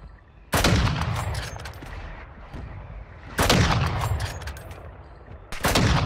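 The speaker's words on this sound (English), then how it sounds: "Mortar strike inbound now." Three heavy mortar-strike blasts land in the Warzone Mobile video game, each a sudden loud boom followed by a long rumbling decay, spaced a few seconds apart.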